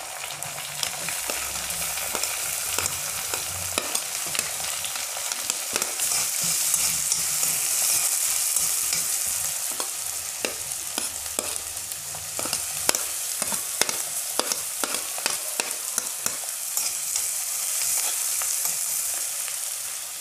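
Cumin seeds and onions fry together in a pan for paneer bhurji, a continuous bright sizzle with frequent sharp scraping and clicking stir strokes, close and fairly loud with no voices.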